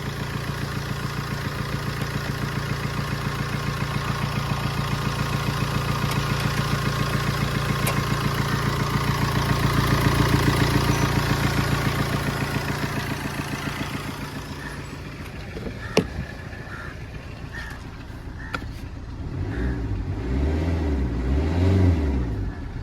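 A Fiat Linea car engine with freshly replaced piston rings runs steadily, a close, continuous mechanical drone with a rhythmic pulse, shifting to a rougher, uneven beat near the end.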